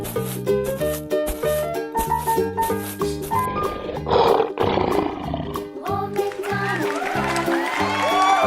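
A lion's roar surges over loud, steady children's song music, a short growling burst in the middle of the track with the music continuing throughout.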